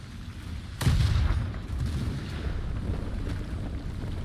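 A single sharp tank cannon shot in War Thunder, from a KPz-70 battle, cracks loudly near the start and booms into a rolling rumble that fades under a steady low engine drone.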